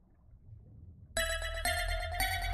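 A bright electronic chime from a brick-breaker style video game plays after a quiet lead-in, signalling the final brick cleared, in three loud repeating tonal bursts.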